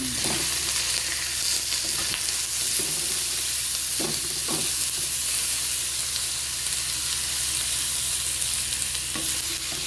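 Onion and ground pork stir-fry in a hot pan, a dense steady sizzle broken by scraping and clacking of a spatula stirring every few seconds, close and continuous without talk.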